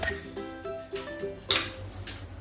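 Ice cubes for a mango lassi clink and rattle into a glass or container, several sharp knocks and ringing taps in quick succession, close and clear.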